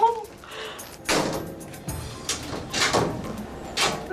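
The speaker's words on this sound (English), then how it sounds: "they just got through the screen door" A screen door being pulled open after its lock was bumped, heard as a few sharp knocks and rattling thuds of the frame, close by, alone without talk.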